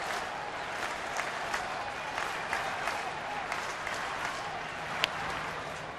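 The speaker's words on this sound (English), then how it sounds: "Crowd starts to rev it up." A crowd at a Cincinnati at Pittsburgh baseball game roars in a broad, steady wash of cheering and clapping, with scattered sharper claps and whistles rising out of the din.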